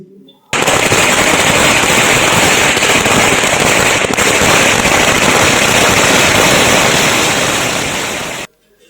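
A long, unbroken string of Sivakasi firecrackers played from a phone, crackling rapidly and loudly for several seconds, dense and continuous, then cutting off abruptly.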